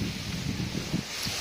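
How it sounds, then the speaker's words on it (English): Steady wind blowing across the microphone, a constant broadband rush with low buffeting gusts, outdoors and fairly loud throughout. "it's very windy"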